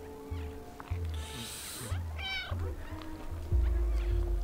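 A cat meows in the video game Stray, with a couple of short cries over game music and ambient sounds, loud and close.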